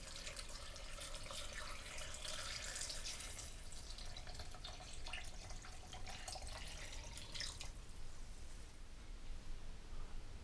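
Filtered water is poured into a Vitamix S55 personal blender. A quiet, splashing trickle runs steadily for several seconds, then softens toward the end.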